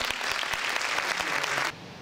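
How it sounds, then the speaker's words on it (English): Sustained applause from an interfaith awards dinner audience honoring panelists, a dense and moderately loud patter of clapping with a few sharper individual claps, which drops off abruptly near the end to a quieter room tone. "A round of applause for our panelists."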